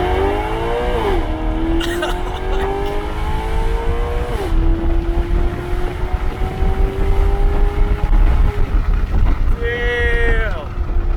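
A supercar fitted with an F1-style exhaust revs and accelerates up close with rising and falling engine whine and gear shifts, while passengers talk and exclaim inside the car.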